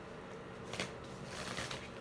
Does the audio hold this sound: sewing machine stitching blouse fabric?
no